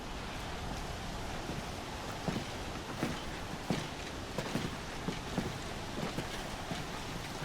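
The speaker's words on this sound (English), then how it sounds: "Things are looking very windy. It's a real heckin' windy over here." Wind roars in a stormy area of the video game Final Fantasy XVI, a constant broadband gusting with scattered sharp ticks and thumps.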